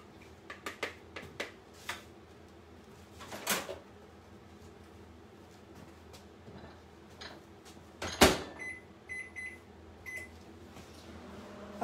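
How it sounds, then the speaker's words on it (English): A microwave oven heats lemon pie filling with zest in a home kitchen, a low, steady hum broken by scattered clicks and knocks and one sharp clatter partway through. "And then I put it in the microwave and microwave it 2 minutes."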